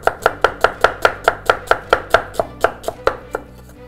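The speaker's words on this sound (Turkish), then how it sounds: "Hemen humus için soğanımı doğruyorum." Knife chopping onion on a board for hummus, a steady run of about fifteen crisp, close thuds at an even quick rhythm that slows and fades near the end, with no talking.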